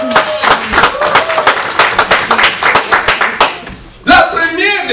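A church congregation claps together in a steady, rhythmic beat of sharp, loud claps, with a voice speaking over the end as the clapping stops.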